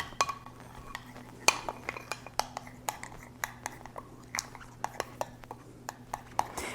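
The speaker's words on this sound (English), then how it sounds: "So I'm going to mix this up right now, just so that the glitter gets all in the glue." A utensil stirring glitter into glue for slime in a container, soft irregular clinks and taps against the sides, quiet and close with a faint background hum.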